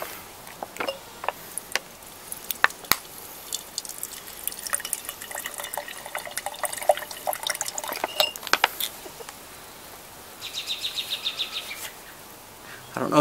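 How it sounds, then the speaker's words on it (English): Dirty fish pond water is squeezed through a Sawyer Mini filter straw into a cup, giving faint, quiet drips and trickles. Small clinks of the cup and plastic sound now and then, with a short burst of rapid dripping near the end. "I'm going to squeeze the water through the straw into this cup."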